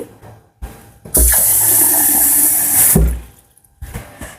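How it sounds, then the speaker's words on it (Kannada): Cold water poured into very hot water in a vessel, a loud, close, steady two-second rush of water, with clunks and handling knocks before and after. "ನೀರು ತುಂಬ ಬಿಸಿ ಇದೆ, ಸೊ ಇದಕ್ಕೆ ಸ್ವಲ್ಪ ತಣ್ಣೀರನ್ನ ಕೂಡ ಮಿಕ್ಸ್ ಮಾಡ್ತೀನಿ."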